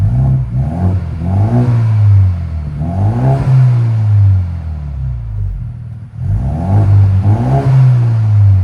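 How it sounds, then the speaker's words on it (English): A 2025 Ford Mustang EcoBoost with an MBRP cat-back exhaust revs up twice, rising to a deep, loud throaty roar and falling back. A short drop toward idle separates the two revs, and there is no talk over them. "Go ahead and give it gas."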